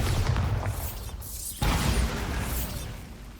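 A Bombarda explosion spell is cast in Hogwarts Legacy, with a rumbling, mechanical burst, then a sudden sharp impact and a loud boom that fades out.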